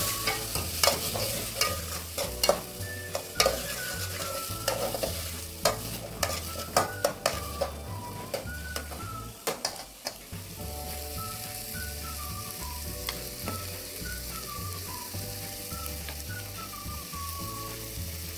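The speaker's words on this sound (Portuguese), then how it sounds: "Vamos refogar." Tomato, bell pepper and chili pepper sautéing in a pan for a sausage pasta dish, with steady frying sizzle and repeated stirring scrapes, close and continuous, no talk.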